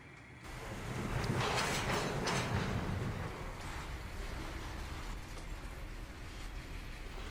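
Railroad cars couple hard in a rail yard on an industrial division, a heavy rumbling bump that swells early and then settles into a steady low rolling rumble with wind noise, fairly distant.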